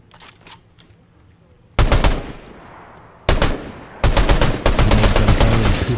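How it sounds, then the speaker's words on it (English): Gunfire in a video game: a faint burst of rapid shots, then a loud close blast, another sharp shot, and a sustained stretch of dense, rapid firing. "We've got shots over here."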